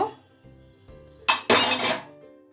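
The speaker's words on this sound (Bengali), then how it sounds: "দশ মিনিট পর আমি এবার ঢাকনাটা খুলব" A metal lid lifted off a cooking pot of steamed peas: a few soft knocks, then a loud close clatter and ring of metal that fades out.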